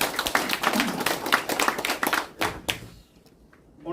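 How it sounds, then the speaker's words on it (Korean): An audience at a forum on the low birth rate claps in a dense, crisp burst for about two and a half seconds, then the clapping thins out and trails off into near quiet. "박수 한번."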